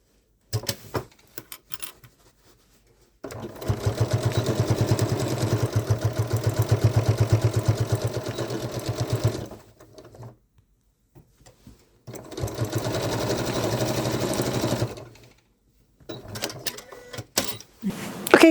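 Janome Inspire sewing machine stitching with backstitch in two steady runs, a rapid mechanical whir lasting several seconds each, separated by a pause with brief handling clicks.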